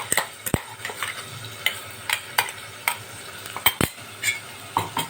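A spoon scrapes and clinks against a pan in an irregular rhythm while chilli paste fries in oil that crackles and sizzles softly underneath, close by.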